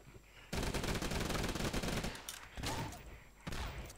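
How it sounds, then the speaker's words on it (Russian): An Uzi fires rapidly in the mobile game Swamp Attack, a dense stream of sharp shots in one long burst followed by a few shorter bursts, loud and up close with no talking. "32 патрона я просто-напросто выстрелил только что так быстро, что и сам не заметил"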